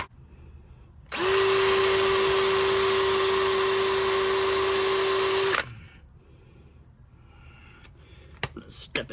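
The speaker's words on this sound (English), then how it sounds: "All right, so I finally got it drilled out enough." A power drill drills out a stuck bolt head during a Skidrow front skid plate installation. One loud, sustained, steady whine lasts about four and a half seconds, then stops abruptly, leaving quiet background clinks.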